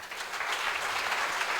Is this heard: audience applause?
yes